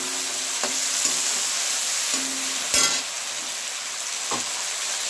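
Tomatoes fry in a pan for a Tamil egg curry, giving a steady close sizzle and crackle. Brief stirring scrapes cut in now and then, and no one speaks.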